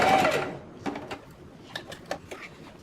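A sewing machine stitches a fabric origami face mask, a loud initial burst followed by several short, spaced runs of stitching and clicks, close up with no talking.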